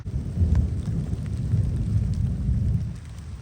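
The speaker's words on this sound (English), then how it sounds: "it's pouring rain out here" Heavy rain pours steadily outdoors in North Port, Florida, with low rumbling thunder rolling continuously beneath the downpour, close and fairly loud, and no voices.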